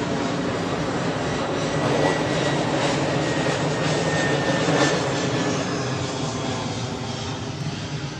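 An airplane flies overhead near a dock, a loud, steady engine roar that fills the whole stretch and swells slightly midway, with no voices.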